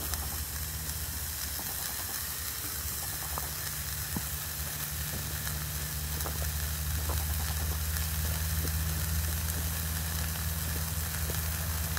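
Hamburger patty frying on a bushcraft cook-kit pan outdoors, a constant dense sizzle and hiss with a low steady hum beneath and scattered small pops throughout, close and fairly loud, no voices.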